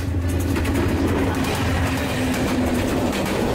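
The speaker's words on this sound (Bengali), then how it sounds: "ক্রসিং শেষে আবার ট্রেন চলা শুরু করবে।" A Kishoreganj Express train at Gachihata railway station in Bangladesh gives off a loud, steady, close rumble of rolling stock and wheels on rail, continuous throughout with no voices.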